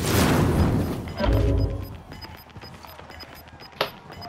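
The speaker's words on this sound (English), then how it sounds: "Stun grenade out." A stun grenade going off in the Warzone video game produces a loud booming blast with a rumbling crash. A few sharper cracks and thuds follow as it fades.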